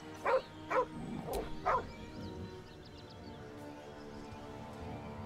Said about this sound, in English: And we have a dog here.